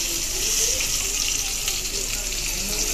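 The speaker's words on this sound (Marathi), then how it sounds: "आता थोडा मसाला राहिलेला आहे, की पण चांगला तेलात परतून घ्यायचा।" Spice masala frying in oil for an eggplant bhaji makes a steady, even hiss of sizzling throughout, with a voice talking faintly underneath.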